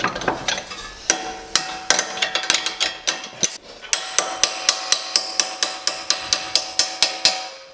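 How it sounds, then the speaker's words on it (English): Sharp metallic strikes ring out in a rapid, fairly steady rhythm, with a pry bar hammering hard on metal close by. "Good old pry bar."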